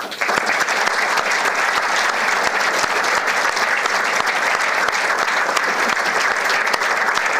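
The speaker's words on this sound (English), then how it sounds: "Let's give them applause right away" A large audience at a makeathon opening applauds the sponsors, loud, dense and even clapping that continues unbroken for several seconds.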